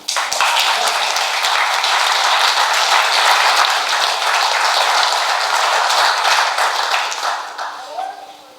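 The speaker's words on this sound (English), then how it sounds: "all of you can, you know, give me applause for this" Applause from an audience at a Tibetan youth gathering, dense and sustained clapping that carries on for about eight seconds before tapering off, loud and close.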